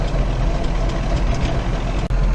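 Tractor engine running while following a grain buggy in a corn field, a loud, steady low rumble with broadband mechanical noise and no break except a brief click near the end.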